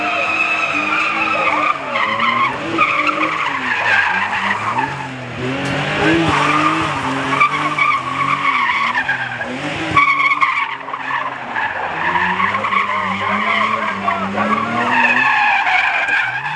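Car tires skid and squeal continuously while a car slides at an Atlanta sliders event, long wavering screeches over a revving engine, loud and close throughout.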